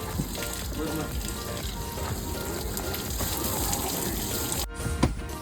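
Water sprays steadily in a continuous hiss as a car is hosed down outdoors, with a brief interruption near the end.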